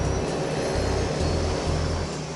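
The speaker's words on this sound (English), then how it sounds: "Cleared for takeoff for Tahiti, runway 12." A Twin Otter propeller plane, cleared for takeoff on runway 12 bound for Tahiti, gives off a steady, dense engine roar with a low droning rumble underneath. The noise stays at an even loudness throughout, with no voices.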